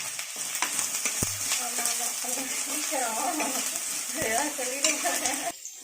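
Tomatoes with salt sautéing in a pan for veg kurma, making a steady close sizzle and stirring noise while voices talk over it in the background.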